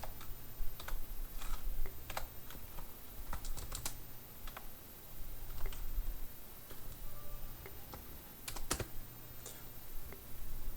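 Keys clatter on a computer keyboard as a search term is typed into Google, a steady run of light clicks with a few sharper taps, close and fairly quiet over a low background hum.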